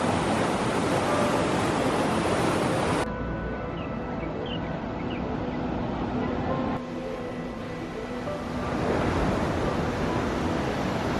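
Ocean surf breaks below a rocky coast in Taiwan, a steady loud roar of waves with wind noise, heard from above on the rocks, without speech.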